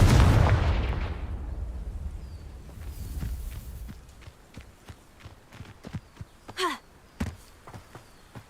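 A Confringo blasting spell from the video game Hogwarts Legacy bursts loudly at the start and rumbles away, followed by scattered soft footsteps and small clicks in a quieter space.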